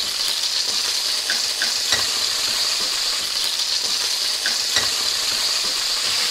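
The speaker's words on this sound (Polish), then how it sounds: "Wlewamy na rozgrzaną patelnię olej. Odrobinę sosu sojowego." Oil and a splash of soy sauce spit and sizzle in a hot frying pan, a loud steady hiss with scattered pops and faint utensil clinks, close up and with no speech.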